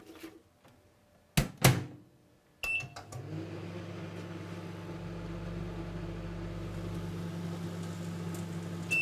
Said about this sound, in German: schon wird aus einer Mikrowelle eine Fritteuse